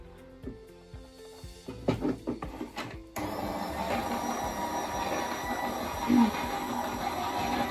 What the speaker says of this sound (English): So now we're going to pop that into the machine.